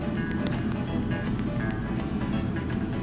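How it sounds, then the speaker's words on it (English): An air fryer running nearby during pancake and sausage cooking, a dense steady fan whir and hum that continues unchanged throughout, with faint clinks over it. "That noise you hear in the background is the air fryer."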